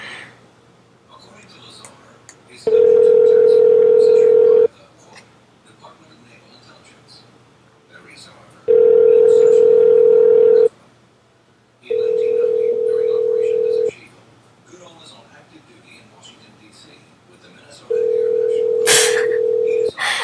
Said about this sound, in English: Obnoxious ringing.